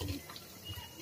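Water splashes into a pigeon's drinking bowl in a brief, close trickle lasting about a second.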